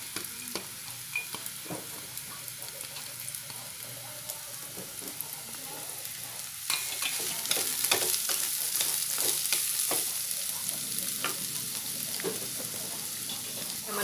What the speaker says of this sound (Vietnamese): Củ cải mình cũng sẽ cho vào đây luôn.